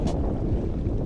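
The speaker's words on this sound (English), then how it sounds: "A bit windy out here this morning on Lake McKerrow" Wind blowing across Lake McKerrow on a boat heading toward the coast, a steady loud rush buffeting the microphone with no talking.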